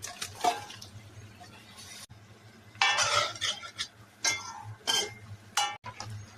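Boiled jackfruit tumbles into a pan already holding salt, homemade masala and Kashmiri red chilli, then gets stirred, with a series of close scraping, clinking bursts against the pan and brief wet sounds between them.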